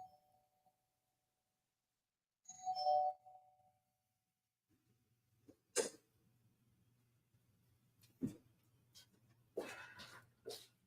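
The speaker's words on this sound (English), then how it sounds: "Gotta go because they're about to ring the bell" A doorbell-like bell chimes once, clear and moderately loud in a quiet room, followed by scattered soft knocks and rustles.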